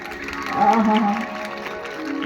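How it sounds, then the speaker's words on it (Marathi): An audience claps together during a devotional kirtan, a steady, fairly loud wash of applause swelling in the middle over sustained harmonium-like tones and a murmuring crowd. "टाळी वाजवा"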